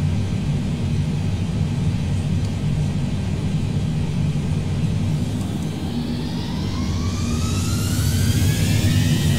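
Jet airliner taking off in Microsoft Flight Simulator 2020, a steady loud engine roar with low rumble that swells toward the end as a rising whine climbs in pitch.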